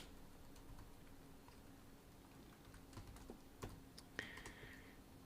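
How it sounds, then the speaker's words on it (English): Someone types on a computer keyboard in an irregular run of soft clicks and taps that come closer together toward the end, quiet and close with no voices. "I'm typing everything that I discover"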